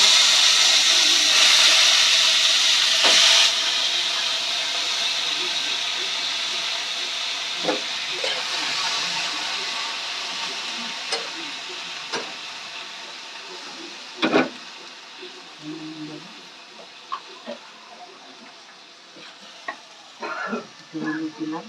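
Mutton frying with tomato in a pan, a steady sizzle and hiss that fades gradually, punctuated by scraping stirs and clinks of the utensil against the pan.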